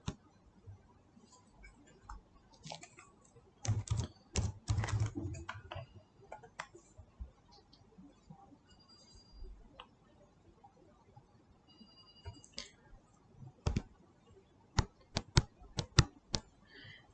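Keys click on a computer keyboard while HTML code is typed, in scattered taps and short quick bursts, close and fairly faint, with brief quiet gaps and a little speech.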